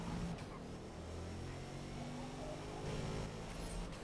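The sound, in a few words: car engine in the racing video game Forza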